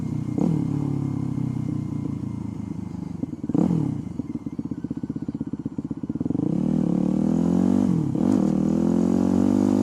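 A Yamaha WR motorcycle with a wide-ratio transmission is ridden up close, its engine droning loudly, dipping through gear changes with a rattling, chattering patch, then pulling harder as it accelerates.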